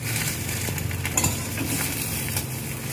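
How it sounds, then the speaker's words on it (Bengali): An egg frying in a pan, with a soft steady sizzle under faint scraping and clinks of utensils against cookware, quiet and continuous. "আর আমাদের মাই সোনার জন্য এখন একটা ডিম ভাজা হবে"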